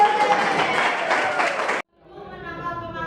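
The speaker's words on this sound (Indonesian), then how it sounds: "boleh tepuk tangan dulu" A burst of clapping from a classroom of students, loud and steady, that stops abruptly and gives way to softer background sound.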